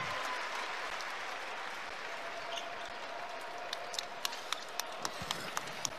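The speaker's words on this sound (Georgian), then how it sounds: "ამხნევებენ გულშემატკივრები" A stadium crowd applauds and cheers steadily for injured national team captain Tornike Shengelia, a dense, even roar of clapping with a few sharper distinct claps standing out near the end.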